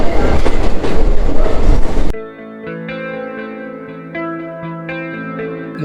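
A train runs on the Kollam–Sengottai railway line, giving a loud, close rumble and clatter for about two seconds before it cuts abruptly to a gentle melodic music track.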